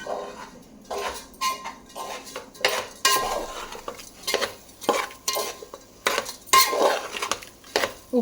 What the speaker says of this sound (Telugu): ఉప్పు కారం ఈ మసాలా రైస్కి అంతా పట్టిలాగా బాగా కలుపుకోవాలి